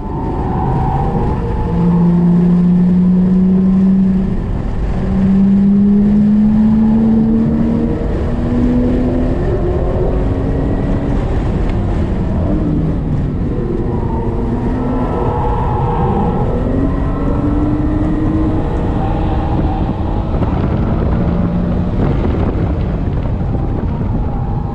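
Car lapping Eagles Canyon Raceway, engine tone rising and falling through gear changes with steady wind and road roar, loud and continuous throughout.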